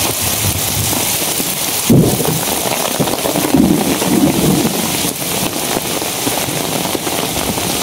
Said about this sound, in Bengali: অবশেষে আপনার স্বস্তির বৃষ্টি শুরু হইলো আর কি।